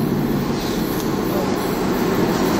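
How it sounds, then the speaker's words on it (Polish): An old yellow metro train on Budapest's oldest underground line rumbles steadily into a station, a loud, continuous low roar with a faint high whine above it. "poczekamy, aż przyjedzie metro, bo też jest naprawdę, jest oldschoolowe metro"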